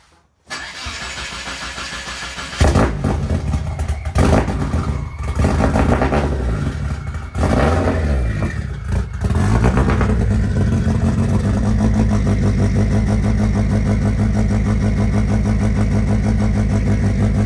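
A Dodge SRT4 engine cranks and starts after a transmission fluid flush, revving loudly a few times before settling into a steady, close idle, with no talking.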